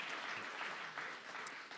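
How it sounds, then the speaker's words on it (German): An audience applauds during a church service baptism celebration, fairly faint and steady clapping from across the room that continues for the whole short stretch. "Ja, lass mal einen Applaus geben."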